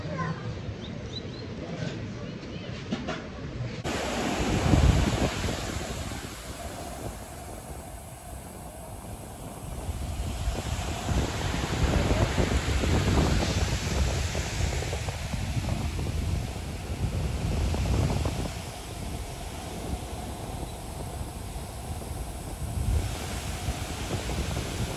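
Ocean waves wash onto Maracas Beach at high tide, a steady broad roar of surf mixed with strong wind buffeting the microphone throughout.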